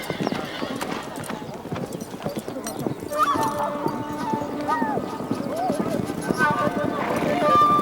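Horses being trained for Mongolian Naadam racing clip-clop in a steady rhythm close by, with a whinny rising partway through and more neighing toward the end, under ongoing talk.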